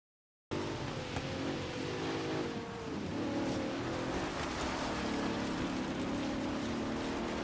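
A Bentley Continental GT in Forza Horizon 3 drives along after a short silence, its engine a steady mid-range drone with shifting pitch as it accelerates and changes gears, fairly quiet and without voices.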